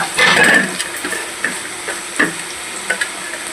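Grated coconut tipped into a hot frying pan and stirred, a loud burst of sizzle at first, then intermittent scraping strokes over a softer steady fry, with no talk.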